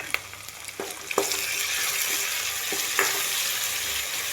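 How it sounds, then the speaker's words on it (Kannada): Tomato fries in a pan for egg masala, giving a steady close sizzle broken by several distinct spoon or spatula knocks as it is stirred, with no speech. "ಕೆಂಪು ಆಗುವವರೆಗೆ ಹುರಿದು ನಂತರ ಟೊಮೆಟೊ ಹಾಕಿ ಹುರಿದುಕೊಳ್ಬೇಕು"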